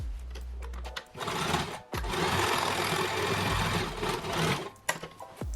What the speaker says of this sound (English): I'm gonna knit in these edges and finish them off with a zigzag stitch